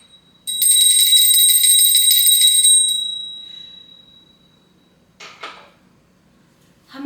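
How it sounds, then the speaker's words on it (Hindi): A bright, ringing bell sounds loudly for about two and a half seconds and then fades away, followed by a brief faint rustle and a soft thud. "हमेशा की तरह हमारी घंटी बज चुकी है"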